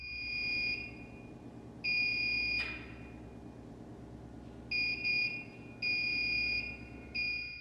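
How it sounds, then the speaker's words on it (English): A locker room alarm sounds in steady, shrill electronic bursts, each a second or more long, repeating with gaps and a brief thud between them over a low room hum, with no talk. "A Steadicam captures the sound as the alarm continues to ring out."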